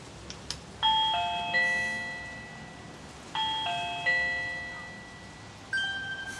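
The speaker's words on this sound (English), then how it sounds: "Now let's check the doorbell push to notification speed." A Reolink video doorbell's electronic chime plays its ding-dong tune three times, each ringing out and fading, clear against a quiet room.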